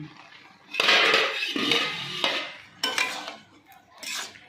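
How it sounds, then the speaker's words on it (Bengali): A metal lid lifted off a pot of bottle gourd simmering for sweet payesh in a home kitchen, with several clanking, scraping metallic knocks in short bursts, fairly close. "এবারে কিন্তু আমি ঢাকনাটা খুলে নিচ্ছি"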